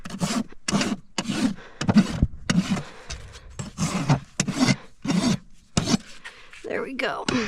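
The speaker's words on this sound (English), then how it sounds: "I'm actually just gonna come with the smooth side of my rasp. Finish rounding this toe all nice." Smooth side of a rasp rounding a horse's hoof toe during trimming, a series of rhythmic, close rasping strokes with short gaps between them.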